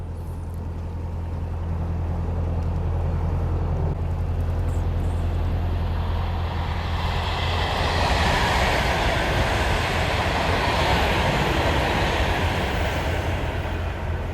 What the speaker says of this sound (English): Some of those trains go like the clappers.